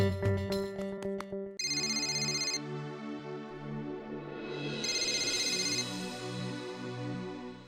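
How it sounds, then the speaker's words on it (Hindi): An electronic phone ringtone plays a repeating melodic pattern, loud and close, ringing continuously without any voices. "रिंग बज रही है।"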